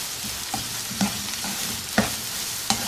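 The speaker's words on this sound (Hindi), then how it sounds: "तेल गरम हो जाए तो इसमें 2 बड़े प्याज चॉप किए हुए डाल देंगे।" Two large chopped onions fry in hot oil in a kadhai for dhaba-style egg bhurji, a close steady sizzle punctuated by four distinct spoon-scraping stirs, no talking.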